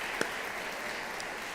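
Audience applause at a teacher salute gala comes as a steady, moderately distant patter of many hands with one sharper clap near the start.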